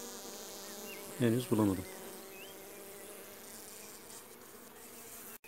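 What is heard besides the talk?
honey bees buzzing during hive inspection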